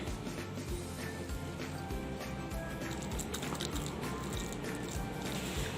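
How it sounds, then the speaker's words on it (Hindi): Water is mixed into flour and other ingredients in a bowl to make a paste for aloo naan, giving wet squishing and dripping sounds in an irregular stirring rhythm, close and fairly quiet. "अब हम इसमें हस्बे ज़रूरत पानी डाल के इसका पेस्ट बना लेंगे।"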